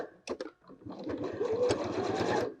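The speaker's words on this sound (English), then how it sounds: "We sew all the way around the outside of this, and we leave a gap in the bottom." Sewing machine stitching fabric for a Christmas tree cutlery wallet, a couple of short starting stitches and then a steady close whirring run of rapid needle strokes.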